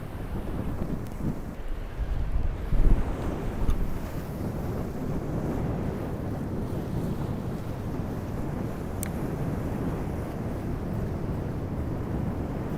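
Strong wind buffets the microphone continuously on open water off the Florida Gulf Coast, a dense, loud rush with waves and boat motion blended underneath and no talking.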